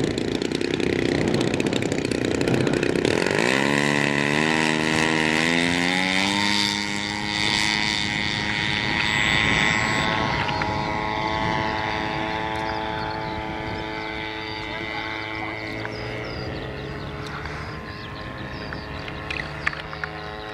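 Buzzing model airplane engine with a whining propeller, pitch rising as it revs up then holding and gradually fading as it moves away.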